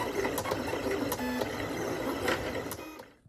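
A Silhouette cutting machine cuts printed paper layers for a seashell diorama, giving a dense, steady mechanical whirring with rapid clicking motor pulses, close up and continuous, ending abruptly.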